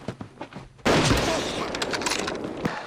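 Sudden loud burst of gunfire in a Korean war film about the Battle of Fengwudong, erupting after a quieter stretch into a dense roll of shots and booms that fades gradually.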